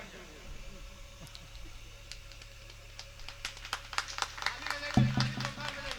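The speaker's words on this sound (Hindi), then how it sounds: "तालियां बजाते रहिए।" Audience at an All India Mushaira poetry gathering at a school clapping, scattered claps building into fuller applause, heard at a distance beneath an announcer's voice over a PA system.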